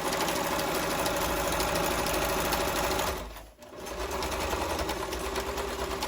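A sewing machine sews a long seam on a garden pouf in a steady, loud whir that dips briefly midway, then resumes at the same even pace.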